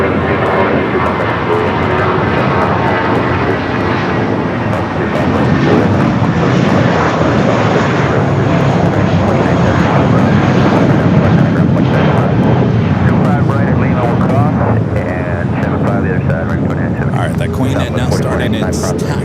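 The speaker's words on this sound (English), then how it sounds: "Already our next takeoff rolling down to 5 right." An airliner rolls down runway 25 Right at LAX on its takeoff run, a loud, sustained jet engine roar that builds and holds, with a radio voice talking over it.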